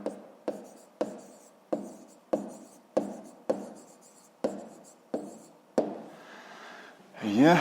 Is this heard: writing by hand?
yes